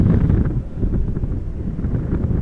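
Wind buffets a livestream camera microphone at Schiphol Airport in strong crosswinds, making a loud, continuous low rumble with irregular gusting surges and no voices.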